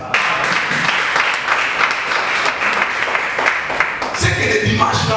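A church congregation applauds in sustained, dense clapping during a sermon, the crowd's applause steady throughout with a voice rising faintly over it near the end.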